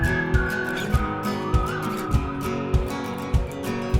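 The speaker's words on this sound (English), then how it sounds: "let's layer the drums, the electric guitars, and the acoustic guitars, and the whistles together" Folk pop production layering drums, electric and acoustic guitars and whistles: a steady kick-driven beat with regular thumps under sustained guitar tones and a high whistled melody line, with no voices.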